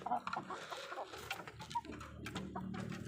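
Several chickens cluck and chatter close by during feeding, busy overlapping calls with a person talking softly among them.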